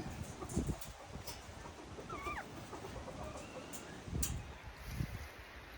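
Chickens at a Thai decoy-chicken farm, with scattered clucks and a few short calls over a continuous outdoor background hiss, moderately distant.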